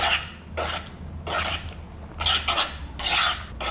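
Banana bread batter with melted unsalted butter being stirred in a bowl, giving repeated rasping, scraping strokes in a steady rhythm of about five passes, close and moderately loud with no voices.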